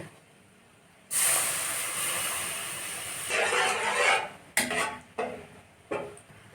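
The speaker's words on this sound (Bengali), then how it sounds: "সুজিটা ভাজা হয়ে গেছে এর মধ্যে আমি দিয়ে দেবো দুধ" Milk is poured into semolina that has been fried in ghee, setting off a loud, sudden hiss that holds for a few seconds, then gives way to several shorter sharp bursts. No one talks.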